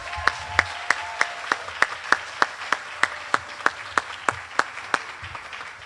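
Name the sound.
audience applause at school moving up ceremony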